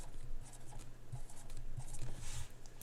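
Someone writes down a number by hand, a soft, close scratching of short pen strokes over a faint room hum.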